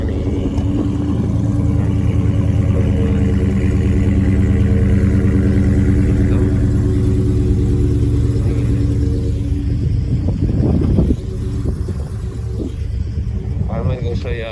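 A 2021 Dodge Challenger widebody Scat Pack idles with a steady, deep, loud engine rumble throughout, a brief swell near the end, while people talk over it.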